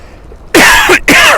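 A person gives two loud, close coughs in quick succession, harsh and throaty, after a quiet moment.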